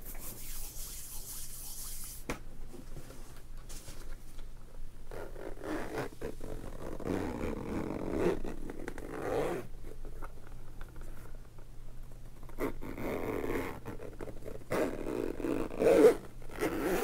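A bag's zipper drawn open in close, quiet ASMR style, with soft rubbing and rustling as things are handled and a short louder scrape near the end.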